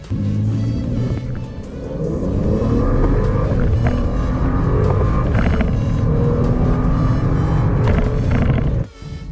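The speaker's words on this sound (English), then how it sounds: "Now this engine doesn't sound too bad. It sounds pretty good actually." A BMW X3 35i engine revs and accelerates, its deep rumble rising in pitch through the gears, loud and close, then cutting off near the end.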